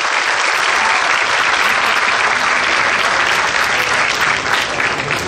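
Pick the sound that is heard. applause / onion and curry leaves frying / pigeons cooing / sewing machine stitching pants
applause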